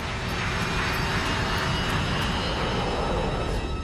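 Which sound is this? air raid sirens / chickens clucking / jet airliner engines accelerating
jet airliner engines accelerating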